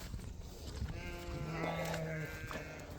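Sheep bleat on a farm in several drawn-out, wavering calls, close and fairly loud over a steady outdoor background, with no talking.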